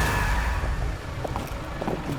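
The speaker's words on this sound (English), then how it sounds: "why is somebody getting hit with a truck?" A truck strikes someone in the Death Note Killer Within video game: a rumbling vehicle engine with tire squeal and scattered impact-like knocks, moderately loud and with no talking.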